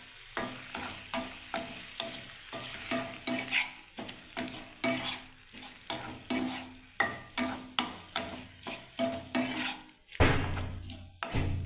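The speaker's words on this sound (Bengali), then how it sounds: "এবার আমি নাড়তে থাকবো বন্ধুরা দেখুন একটুখানি" Cubed bottle gourd is stirred in hot spiced oil for a milk-based lau shukto, with a spatula scraping the pan in a steady rhythm of about two strokes a second over a soft sizzle, and a louder clatter near the end.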